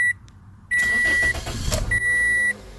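A 2007 Toyota Corolla starts up, a short chime followed by the engine catching and running at a steady hum while a dashboard beep tone sounds on and off, close and fairly loud.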